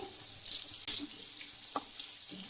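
Potato pieces shallow-fry in oil for a cauliflower dish, a soft steady sizzle with a brief louder spatter and a couple of light clinks, quiet and close.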